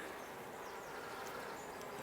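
Honey bees in a hive being worked with a smoker during a nuc transfer, giving a steady, dense, close buzzing hum that holds evenly throughout with no talking.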